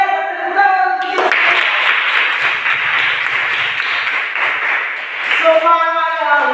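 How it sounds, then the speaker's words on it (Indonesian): Young pupils in a lower-grade classroom break into loud, close clapping that lasts about four seconds, bracketed by a bright electronic musical chime before and after, with talk around it. "tepuk tangan untuk kita"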